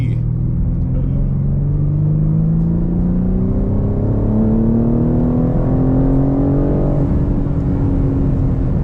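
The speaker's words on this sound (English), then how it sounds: "now I could like rev it all the way up to like red line now" A 500-whp BMW M3 engine revs steadily upward toward redline, a loud, climbing, harmonic-rich roar with a brief drop near the end as the throttle eases.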